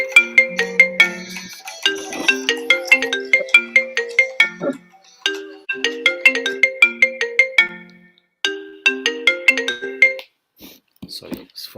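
A phone ringtone plays in repeated bursts of a bright, chiming melodic pattern, loud and close, with short pauses between rings and a faint voice near the end.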